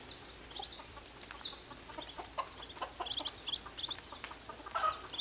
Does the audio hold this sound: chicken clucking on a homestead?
yes